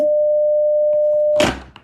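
A phone call ends with a steady electronic tone that holds loud and even, then cuts off with a sharp click as the handset is put down, followed by a faint knock.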